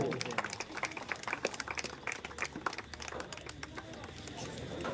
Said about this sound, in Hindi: सुनील भाऊ के लिए जोरदार तालियां बजती रहनी चाहिए